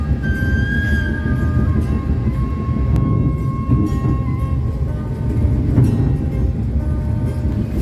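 A KA Lodaya passenger train runs fast down a steep grade between Cibatu and Cipende, heard from inside the carriage as a steady loud rumble with rail hum and occasional clacks and squeals.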